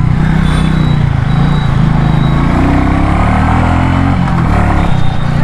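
A Royal Enfield Meteor 350 motorcycle rides steadily with a continuous, smooth engine drone and road rumble, loud and close throughout, with small shifts in pitch as it pulls along.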